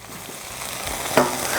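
Butter and onions hiss on a hot Blackstone griddle during a backyard hibachi cook, a brief close sizzle that swells slightly with one sharp scrape of a spatula.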